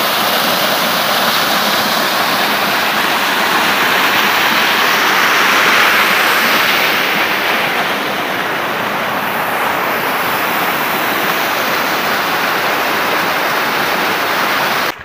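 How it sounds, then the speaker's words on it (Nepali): A man-made waterfall pours steadily outdoors, a loud dense rushing roar close by that continues without a break, with no talk. "यहाँ पर म्यान मेड झरना है इधर."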